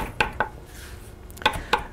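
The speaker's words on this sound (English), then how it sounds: "so I'm going to chop my parsley." A kitchen knife chops fresh parsley on a board, producing a few sharp, close knocks in two small bursts, with quiet gaps between them.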